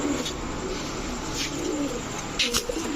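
Giribaz high-flyer green-neck pigeons, a male and female pair, coo in low, continuous murmurs close by, with a few brief sharper chirps near the end.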